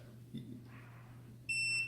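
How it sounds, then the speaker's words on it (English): A short, bright electronic beep from an oil diffuser sounds near the end, clear against a low steady hum, with faint background noise before it. "You'll hear a little beep"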